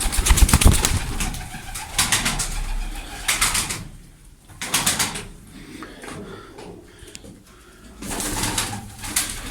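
Bursts of wing flapping from several birds taking off, with pigeon cooing and clattering in between, close and fairly loud, fading and returning.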